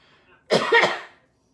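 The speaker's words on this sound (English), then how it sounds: "I'm sorry, I have to cough." A single harsh cough bursts out close by after a brief lull, loud and raspy, fading within about a second.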